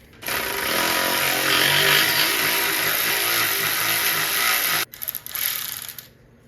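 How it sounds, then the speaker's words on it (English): A power tool spins a nut off a Harley-Davidson during a top-end rebuild, a steady loud whirring run of nearly five seconds that cuts out, then sputters back in short bursts before stopping. "And use my little power tool friend."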